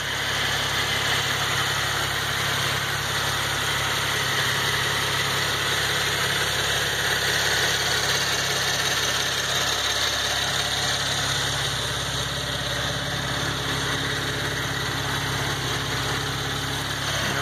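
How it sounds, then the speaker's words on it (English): A 2014 Cadillac ATS with a direct-injected V6 and rear-wheel drive idles steadily under an open hood, a continuous close, even engine drone with light ticking and no talk. "Engine's running right now."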